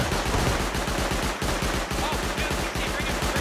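Shotgun traps fire repeatedly in an online survival game, a steady run of loud, close blasts in quick rhythm with brief dips between shots, with players talking underneath.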